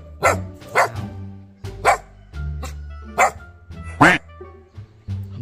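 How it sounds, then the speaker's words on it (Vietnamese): Dog barking indoors at home, a series of five or six sharp, close barks spaced about a second apart with whimpering sounds between them. "Không sủa nữa."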